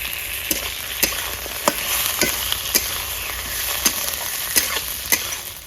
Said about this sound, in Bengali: রসুন বাটাটা দিয়ে ভালো করে রসুনের গন্ধটাকে যাতে চলে যায় একটু ভাজা ভাজা করবো